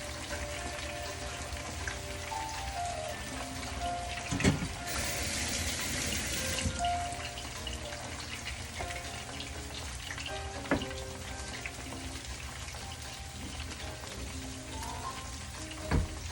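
Pork chops fry in a pan with a steady, close sizzle and crackle. Scattered pops and a brief hiss surge break through the sizzle.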